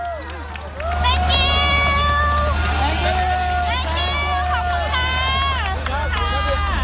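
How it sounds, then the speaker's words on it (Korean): A crowd roars and cheers continuously as an ambulance carrying the coach, the last of 13 people rescued from a flooded cave, drives past; the loud, sustained hubbub holds steady, with excited shouted voices throughout. "가장 마지막으로 코치를 태운 구급차까지 지나가자 환호성이 나옵니다"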